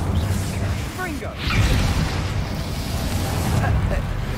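A Confringo spell explosion in Hogwarts Legacy, a whooshing cast followed by a deep booming burst, set amid ongoing combat noise, with a voice speaking briefly in the middle.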